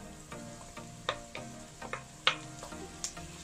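Chopped tomato fries with garlic in a pan, a soft close sizzle broken by sharp clicking taps and scrapes from the stirring utensil. The sound is quiet and has no talk over it.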